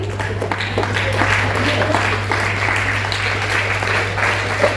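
Applause from an audience at a music and dance academy's 16th anniversary celebration, a steady wash of clapping across the whole stretch with a constant low electrical hum beneath it.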